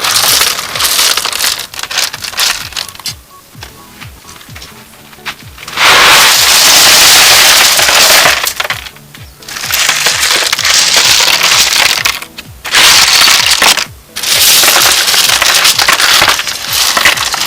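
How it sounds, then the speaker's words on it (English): Gravel poured over bigger stones in a pond filter tank, loud rushing, crunching cascades in several long bursts separated by brief pauses, close and dominant. "So all these gravels will go above the bigger stones,"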